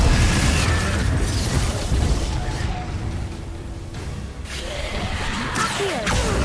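Confringo spell explosions in a Hogwarts Legacy battle, loud booming blasts and whooshes layered over constant combat noise, with a sharp burst near the middle and crackling impacts toward the end.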